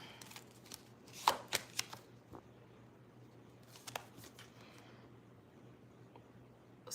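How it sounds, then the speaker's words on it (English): Cards shuffled by hand for a tarot-style reading, a few quick riffle bursts early then scattered soft flicks, close and quiet over a low steady hum. "We're going to do one more shuffle, Stephanie."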